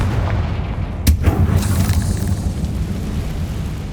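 A Confringo fire spell bursts in Hogwarts Legacy on PS5, one sharp blast followed by a rumbling low boom that fades over ambient noise.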